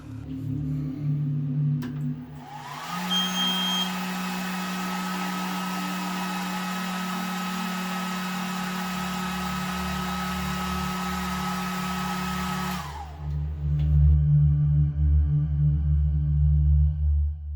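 Atezr P20 Plus laser engraver running, its fans and electronics giving a steady whirring drone with a high tonal whine that holds for about ten seconds before cutting off, with background noise and machine sounds either side.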